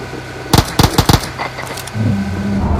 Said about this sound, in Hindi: फायरिंग भाई